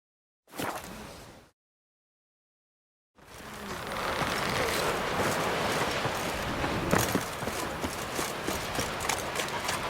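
Horse hooves clip-clopping in the video game The Witcher 3: Wild Hunt, a brief burst, a gap of silence, then a steady close rhythm of hoofbeats with wind and ambient noise.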